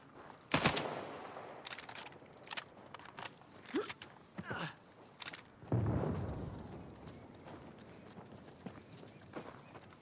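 Gunfire in the action game Uncharted 4 Remastered on PlayStation 5, with a few scattered, sharp shots and bursts over a busy ambient game soundtrack, fairly faint and spread across the scene.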